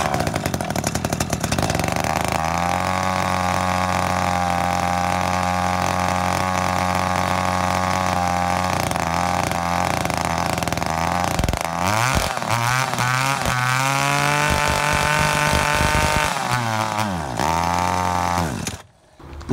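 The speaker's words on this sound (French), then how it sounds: "je viens de le faire tourner ce petit moteur pendant je sais pas 5-10 minutes" A small motorcycle engine with a newly fitted exhaust runs steadily and loudly, a buzzy idle that holds for a long stretch, then blips and revs unevenly before cutting off at the end.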